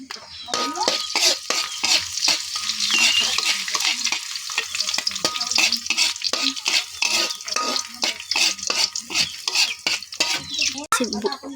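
Garlic sizzles and fries in a pan while a utensil stirs it, giving repeated scraping strokes over a constant crackling hiss, close and moderately loud, with occasional light clinks of metal.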